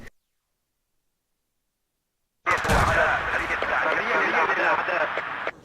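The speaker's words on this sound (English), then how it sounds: "Major firefight going on underneath, and Norway are actually getting the better of it" Gunfire in the video game Battlefield 2 during a Norway versus Germany match. It starts after a stretch of silence as a loud, dense burst of shots and battle noise under a voice.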